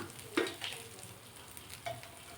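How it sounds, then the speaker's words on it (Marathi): Oil and butter heat in a kadhai for butter chicken, giving a faint, low sizzle with a few light clinks and stirring scrapes. "आता याच कढईमध्ये आपण तेल आणि बटर टाकून घेणार आहोत पुन्हा"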